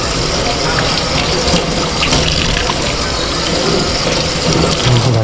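Running tap water splashes steadily into a sink while food is rinsed under it, a continuous loud gush with faint clatter throughout.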